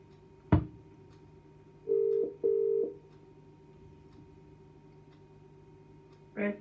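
A telephone line during a call: a sharp click, then two short steady tones in quick succession, quiet hum between, and another brief tone at the end, with no talking.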